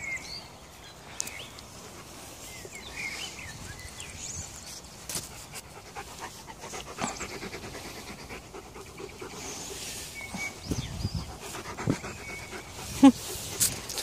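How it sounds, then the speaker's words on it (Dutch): A dog pants rapidly and continuously up close, with quiet birdsong in the background and occasional faint rustles and bumps. "Is een lieve hond."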